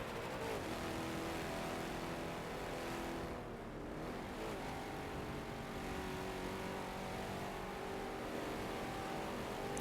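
Race car engine in the Forza video game revving and accelerating hard down a straightaway at Circuit de Spa, a loud continuous roar with layered engine harmonics and a brief dip before building again.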